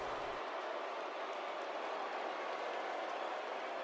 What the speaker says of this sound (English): Crowd really letting them know what they think of her here.